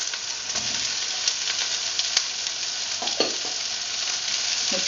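Onion and tomato sizzle steadily in a pan for Filipino mussels cooked in coconut milk, with a bright continuous frying hiss and occasional scraping stirs and light clinks close by.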